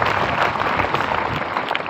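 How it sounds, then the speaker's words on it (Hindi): Audience applause at a school assembly, a dense, steady clatter of many hands clapping together at close range for about two seconds, with no voices over it. "ताली दो, क्लैप करिए, क्लैप करिए।"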